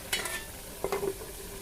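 Paneer cooks in a pan at home: two short stirring scrapes stand out over a low, even sizzle that carries on between them.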